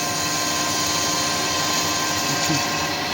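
A power tool grinds a chamfer onto a handmade motorcycle headstock for a custom Harley-Davidson Softail chopper build, giving a loud, steady, high-pitched whine with no break.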